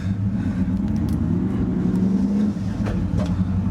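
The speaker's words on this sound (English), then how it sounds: "now we're going down a quarter mile drag strip with him in the bed" A Ford SVT Lightning pickup truck runs hard down a quarter-mile drag strip with a passenger riding in the bed, its engine making a loud, steady, close rumble that continues throughout.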